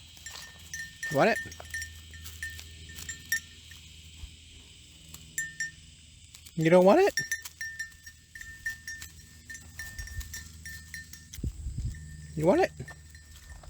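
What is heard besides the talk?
goats on a property while being fed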